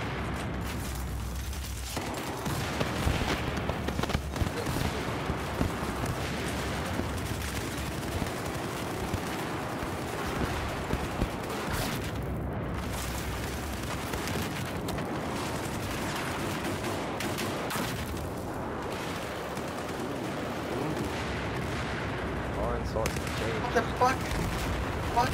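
Battlefield 4 gunfire and a grenade on Operation Locker: dense, continuous bursts of shots and blasts run throughout at steady loudness, mixed with voices talking over the game.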